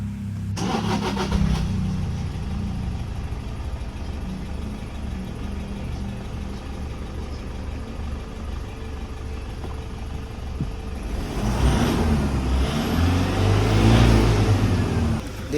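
A Toyota Fortuner engine that had long failed to run cranks and catches, then idles steadily with a continuous low rumble before climbing into louder revving near the end, recorded close by.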